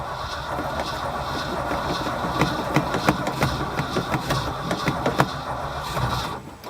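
An old yard truck's engine cranking over from cold and catching, a steady mechanical churn with rhythmic louder bursts as it turns, then running rough; fairly close and continuous throughout.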